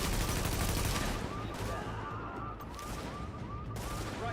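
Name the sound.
gunfire in the video game The Division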